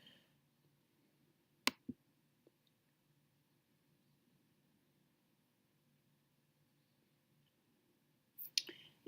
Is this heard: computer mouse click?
yes